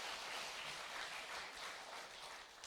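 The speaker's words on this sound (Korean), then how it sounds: "박수 한번 주시겠습니까?" Congregation applauding at a church service for a young adults' group leader, a steady, dense wash of clapping filling the space throughout, fairly distant and without speech.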